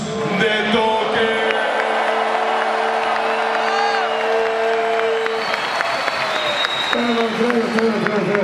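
A crowd cheering, whooping and applauding loudly and continuously at a freestyle rap battle final, with a voice calling out over the din.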